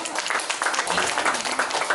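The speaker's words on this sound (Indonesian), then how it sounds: "tepuk tangan untuk teman-teman di sini." Audience applause for a group at a cultural gathering, a brief burst of fairly dense clapping at moderate level, with some voices mixed in.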